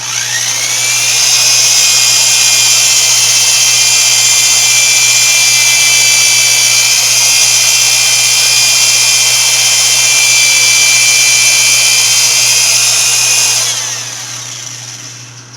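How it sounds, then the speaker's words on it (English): Scotch-Brite spun against a .375 Ruger rifle chamber in a McMillan action makes a loud, continuous high whine for around twelve seconds, with a steady motor hum beneath that fades at the end. "the final step is to polish the chamber with an old piece of Scotch-Brite."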